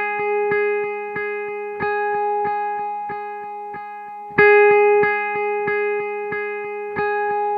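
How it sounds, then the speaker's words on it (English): A sustained clean guitar drone with rhythmic repeating delay pulses from a long-tailed, high-feedback delay and a long reverb wash, holding steady before a brighter chord swells in midway. "there's a long tail on that delay and a high level of feedback"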